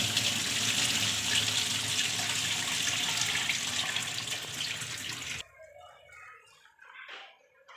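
Water running from a tap over 2 kg of wheat grains soaked for three days, rinsed in a kitchen sink; a steady, fairly loud gush for about five seconds, then stops, leaving faint drips and handling noises.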